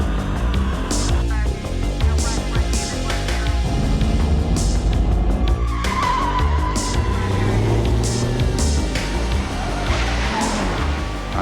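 A pickup truck driven by Travis Duncan speeds east on I-40 at about 100 miles an hour, its engine roaring loudly and continuously with tire squeal and dramatic music layered over the rush.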